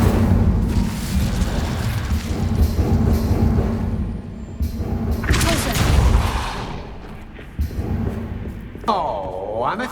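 The Incendio fire spell from the Hogwarts Legacy video game, bursts of roaring, crackling flame and booming impacts over a busy game soundscape, with a swooping magical whoosh near the end and voices in the mix.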